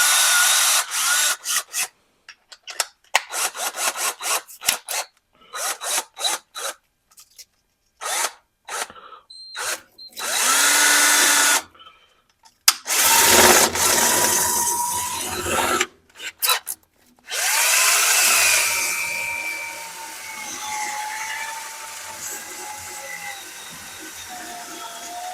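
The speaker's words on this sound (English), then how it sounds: "I just want to be able to put my drill on it and spin it" Electric drill spinning a part in repeated bursts, starting with short stop-start pulses and growing into longer sustained spins with a grinding, rubbing edge, close by.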